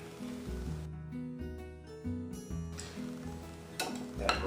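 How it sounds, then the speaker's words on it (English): Sour cream cupcake batter being whisked in a bowl, with soft rhythmic clinks and scraping of the whisk against the bowl, faint and close. "Now, all I have to do is whisk to combine."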